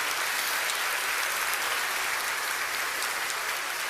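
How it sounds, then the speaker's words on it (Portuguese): A church congregation applauds, a steady, dense wash of many hands clapping that holds at an even level throughout with no pauses. "Se é para Jesus, você pode aplaudir."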